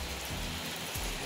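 Rain falls outdoors in Teknaf, Bangladesh, a brief, steady wash of hiss with soft low thumps underneath, moderately quiet and without voices.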